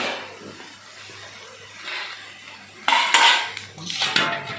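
A spoon stirs and scrapes through mung and masoor dal khichuri with cauliflower in a cooking pot, soft steady scraping at first, then louder clattering strokes against the pot near the end, with no talking.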